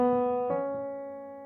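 Three sustained ear-test notes rising step by step, do, re, mi, each clean pitched tone entering in quick succession and ringing close, then decaying gradually with no voice present.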